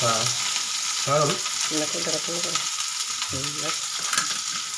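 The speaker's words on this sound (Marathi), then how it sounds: "कांदा चांगला भाजून घ्या" Onion fries in a pan at home with a steady, close sizzle throughout, while a voice speaks intermittently over it.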